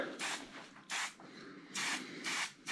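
Epoxy primer is sprayed onto a bare steel frame of a BSA A10 plunger motorcycle in thin coats, heard as four short hissing bursts, each roughly a third to half a second long, separated by brief pauses.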